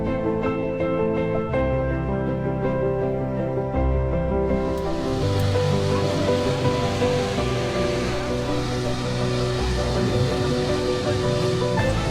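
The waterfall at Furong ancient town is heard from a rooftop bar as a steady, broad rushing roar. Sustained tonal sounds, like music or voices, sit over it throughout.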